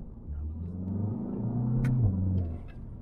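A Volkswagen Golf 7 GTI engine revs up with a rising drone, drops briefly as it shifts, then climbs again, heard muffled from inside the cabin.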